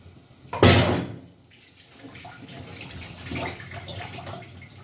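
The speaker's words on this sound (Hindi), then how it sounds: "इसमें डाल दिया पानी।" Water is poured into a cooking pot in a home kitchen, a brief loud splash followed by quieter trickling and faint clinks, with no talking.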